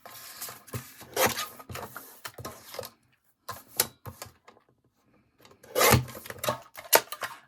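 A small paper trimmer slices through paper in several short, dry rasping strokes, close up, with brief quiet pauses between the cuts.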